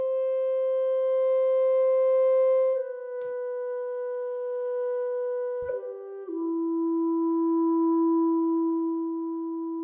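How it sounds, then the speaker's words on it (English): A sampled clarinet from Vienna Instruments plays quiet, soft, round sustained notes, a long held tone that shifts pitch downward twice in small steps, smooth and isolated with no voices. "let's say you want that quiet, soft, round clarinet sound"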